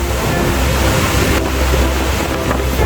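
A violent river in flood during a cyclone on Réunion roars as a dense, continuous rush of churning water, loud and close, with wind buffeting the microphone.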